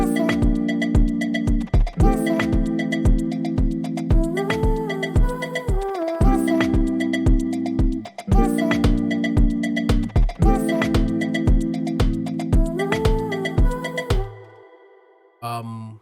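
An Amapiano beat plays back from an FL Studio playlist, with deep log drum bass hits, chord stabs and a looping percussion groove in repeating bars, dropping out briefly before stopping near the end.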